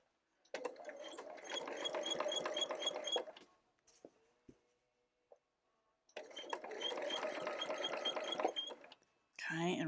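A sewing machine stitches quilt binding to the front at a quarter-inch seam allowance in two rapid, close bursts of whirring clatter separated by a short pause with a few small clicks.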